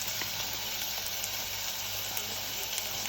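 Onions with garlic puree sweating in a pan, a continuous soft close sizzle with a steady hiss and no talking.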